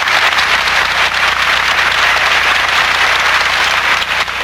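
An audience breaks into huge applause after a letter is read aloud, a dense, loud, continuous wash of clapping that holds steady from start to finish with no voices.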